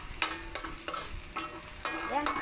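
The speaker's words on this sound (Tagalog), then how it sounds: "ako ay nagigisa na ng sibuyas sa bawang" Onion and garlic sautéing in a pan for a breakfast of pechay with egg, with a constant close sizzle punctuated by about five quick spatula scrapes, no talking.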